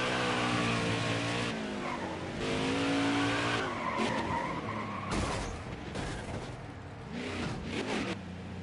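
Race cars in the NASCAR Heat 5 Cup racing video game roar past with engine notes rising and falling, while tires squeal and skid in long loud bursts.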